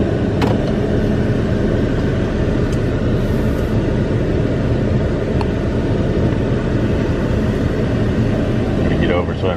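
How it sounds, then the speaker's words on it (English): A 2019 Ford F250 Super Duty pickup rolls forward with a steady, loud engine and road rumble throughout, someone talking over it. "Okay, I'm gonna drive forward to calibrate."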